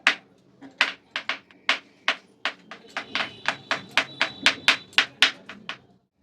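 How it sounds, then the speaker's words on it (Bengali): A knife chops boiled eggs into small pieces on a cutting board, giving a quick series of about twenty sharp, close knocks in an uneven rhythm that grows faster toward the end. "এবারে আমি এগুলোকে চপ করে নেব। দেখো এরকম ছোট ছোট করে করতে হবে।"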